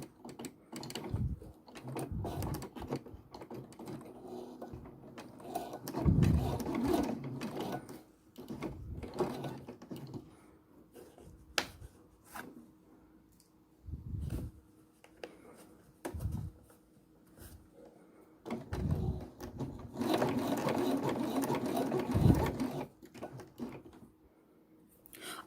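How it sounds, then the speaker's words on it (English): A sewing machine set to a 3.5 stitch length runs in several short stitching bursts and one longer run while sewing a patch repair, with quiet pauses between runs and occasional talking. "So I'm going to put my needle down, put the foot down, and start sewing."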